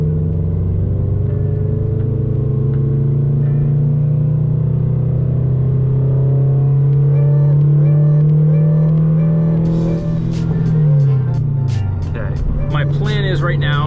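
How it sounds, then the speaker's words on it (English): Toyota GR86 running on E85, engine revving steadily in third gear on a partial-throttle pull from about 2,500 toward 5,000 rpm, a loud sustained rising drone that eases off near the end, with someone talking over it. "for the partial throttle pull, you're gonna be in 3rd gear. And you're going to be starting at around"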